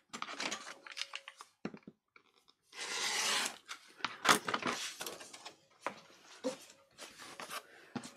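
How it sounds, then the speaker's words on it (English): Card being cut to size for an altered file folder, giving close, crisp crunching cuts and rustling scrapes in short bursts, with one longer steady swish in the middle and quiet pauses between. "So line this up again and cut it off at"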